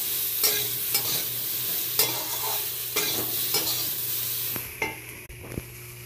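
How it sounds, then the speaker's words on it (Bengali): Food being stirred and fried in a pan in a home kitchen, with repeated sharp scrapes of a utensil over a steady sizzle and a few clinks near the end, no talk. "এই যে আমি রান্না করছি। নেড়ে চেড়ে ভেজে নেব।"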